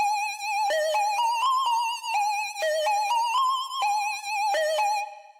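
Synth lead recreated in Sylenth1 plays a bright, bouncy melody of short plucked notes with slight vibrato, loud and alone, ending with a quick fade.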